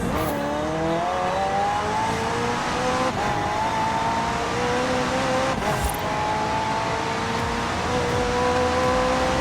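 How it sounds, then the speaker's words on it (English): A McLaren twin-turbo V8 hybrid in Forza Horizon 4 revs hard through repeated gear shifts, its rising engine pitch dropping at each change, loud and close with brief tire squeal. "The car's blistering performance is delivered by a twin-turbo V8, supplemented by a McLaren ECU electric motor and instant power assist system"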